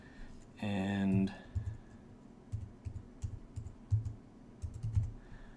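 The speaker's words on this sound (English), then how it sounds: "I type the code, and then click sync" A code is typed on a netbook keyboard in a run of soft, irregular key clicks, close and moderately loud, following a brief burst of voice at the start.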